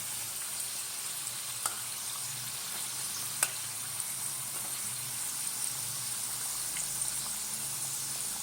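Mung dal kachori, stuffed and flaky, puffing as it fries in hot oil: a steady, close sizzling hiss with a few sharp crackles and pops scattered through, and no voices.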